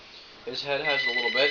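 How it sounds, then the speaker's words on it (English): A house telephone rings with a steady electronic trill beneath a man's close, ongoing talk. "and that's my phone again."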